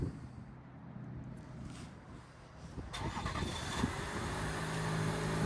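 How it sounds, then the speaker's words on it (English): A 2025 Chevrolet Silverado 1500 LT 4x4 with the Turbomax engine cold starts, with a low rumble that catches and settles into a steady, fairly quiet idle heard close by without talk. "All right, let's do a little cold start now and just kind of compare."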